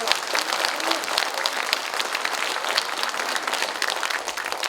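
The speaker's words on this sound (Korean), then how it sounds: "여러분 그렇게 생각하시면 박수 한번 부탁합니다." An audience applauds at a political talk in Gijang, Busan, sustained dense clapping from a large crowd filling the room, steady and loud throughout with no voice over it.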